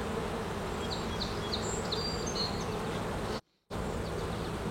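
Honeybees buzz in a hive beside a brood frame holding a few empty swarm cells, a dense, steady close-up drone that continues without a break except for a momentary dropout near the end.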